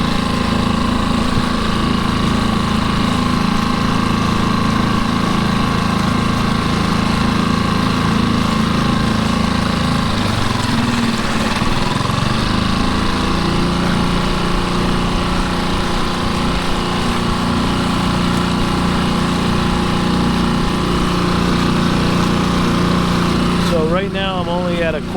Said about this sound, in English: Break it in and do exactly what they ask you to do to make sure that the longevity of the engine is going to last me a lifetime.